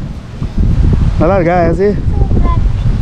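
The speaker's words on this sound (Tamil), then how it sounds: "சூப்பர் காற்று, ப்ரீஸ், நல்ல ப்ரீஸ்" A steady breeze blows at a lakeside resort on Vembanad Lake in Kumarakom, making a continuous low wind rumble on the microphone while a person talks over it.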